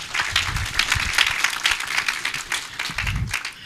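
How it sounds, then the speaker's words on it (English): Audience clapping at a graduation ceremony, a steady wash of applause from a crowd that runs for the whole few seconds at moderate loudness, with faint voices underneath. "Let us give him a hearty clap."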